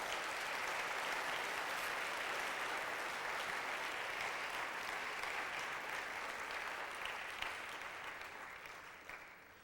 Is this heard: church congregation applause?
yes